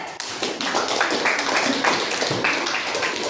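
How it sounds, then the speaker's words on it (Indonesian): A classroom of students claps for classmates Natasha and Nael, a dense, steady patter of many hands close by that carries on throughout without letting up. "tepuk tangan dulu untuk Natasha dan Nael"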